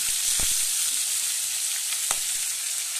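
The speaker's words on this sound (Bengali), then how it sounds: "তো মাছটা খুব ছিটকাচ্ছে, তো তেল গরম করে একদম চাপিয়ে দিয়ে তোমাদের দেখাচ্ছি ভিডিওটা" Tangra fish fry in hot oil, giving a steady, loud, close sizzle with a few sharp spatters and pops breaking through, with no voices.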